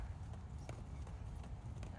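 Hooves of a ridden horse clip-clop in a steady, close walking rhythm over a low rumble of movement, with no voices heard over the repeated footfalls.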